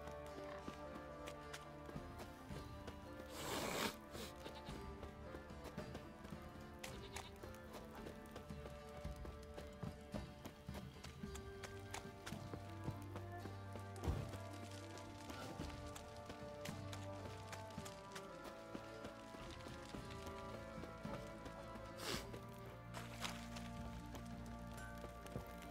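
Hooves clip-clop steadily at a walking pace over a quiet, faint background, with a brief louder whoosh partway through, from horses in The Witcher 3 video game; no talking.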